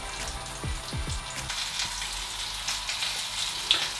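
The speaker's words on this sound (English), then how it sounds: "we're just going to fry those for a minute or 2 on the other side" Black bean and chipotle quesadillas fry in hot oil with a continuous crackling sizzle, steady and close, with a few low thumps early on as they are moved in the pan.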